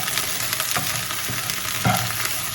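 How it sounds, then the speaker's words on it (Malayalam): Okra sautéed with a little salt in a pan gives a steady, fairly loud sizzle and hiss, with a few soft stirring scrapes rising through it. "വെണ്ടയ്ക്ക വഴറ്റുമ്പോൾ അതിൽ ലേശം ഉപ്പിട്ടിട്ട് വഴറ്റിക്കോളൂ"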